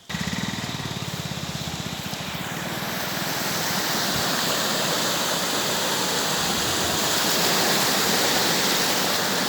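Floodwater rushes hard past a village, a loud, continuous broadband roar that builds slightly and holds steady, close to the listener, with a brief rattling mechanical texture at the very start and no voices.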